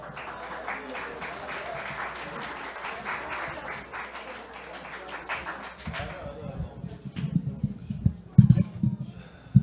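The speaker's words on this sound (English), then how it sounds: "please clap while he recites" Audience applause at a religious celebration marking the birth of Prophet Muhammad and Imam Sadegh, with a loud crowd chanting first, then scattered rhythmic clapping joining in near the end.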